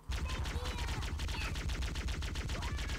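Rapid automatic gunfire from the Halo video game, a dense continuous burst of shots with a steady rhythmic low thump and clattering highs, loud and close throughout.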